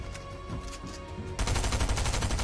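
Loud rapid-fire gunshots from a Fortnite-style battle royale shooter, a fast rhythmic burst of automatic fire that intensifies sharply partway through, heard alone without talk.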